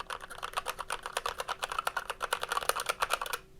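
Rapid, steady clacking of a full-size mechanical keyboard with red switches being typed on, close and clear, with no voices, stopping abruptly near the end.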